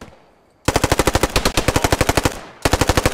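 Rapid automatic gunfire in the World War II shooter game Post Scriptum during a night mission, loud and close, in two long bursts of evenly spaced shots separated by a brief pause, with no talk.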